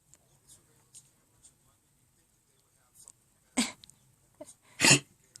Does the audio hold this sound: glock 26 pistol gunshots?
no